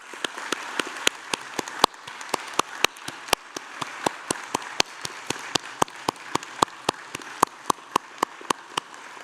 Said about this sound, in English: I wonder if everyone now would join me and my colleagues up here in applauding the wonderful